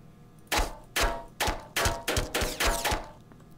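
Gunfire in the Black Mesa shooter game, seven sharp loud shots fired one at a time at a quick, slightly uneven pace, each with a short ringing tail, with no talking over them.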